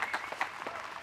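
Brief, light applause from a small gallery at a professional disc golf tour championship final, scattered claps at a moderate distance lasting about a second.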